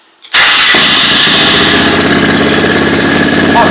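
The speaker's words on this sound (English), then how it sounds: "I mean, it starts like most Hondas, pretty easy." A Honda engine jump-started with a small boost pack catches after a brief crank and bursts into a loud, steady, rattling idle that continues close by.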